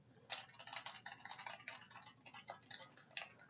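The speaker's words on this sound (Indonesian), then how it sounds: "sekarang saya coba kalau sambil klik-klik mouse dan juga keyboard seperti apa" Rapid, uneven clicking of keys being typed on a computer membrane keyboard, close by and steady for a few seconds, with no talking.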